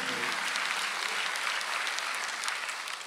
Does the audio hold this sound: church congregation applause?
yes